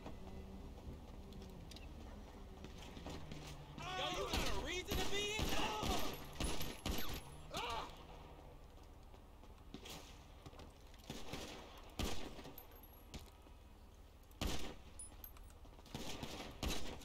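Gunfire in a driving video game: repeated sharp shots and bursts ring out over a steady engine drone, with people talking and shouting among the shots.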